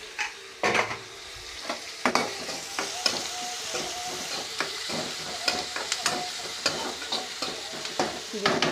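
Ingredients for drumstick sambar sauté in a hot pan, a continuous close sizzle broken by frequent scraping and clinking strokes of a stirring utensil.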